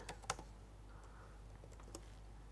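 A handful of faint, sparse keystrokes on a computer keyboard while code is typed, a few sharper clicks standing out over a quiet room hum, with no talking.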